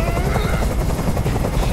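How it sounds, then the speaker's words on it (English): A helicopter in Detroit: Become Human throbs with a loud, dense rotor roar, close and continuous, filling the whole moment without letup. "I can't stand that noise anymore. Tell that helicopter to get out of here."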